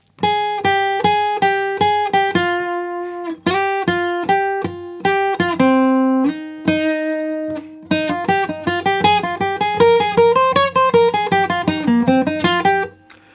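A guitar plays a line from a song, a quick run of plucked single notes and short strums with a steady pulse, clear and close, building into a busier, rippling passage near the end, alone without talk.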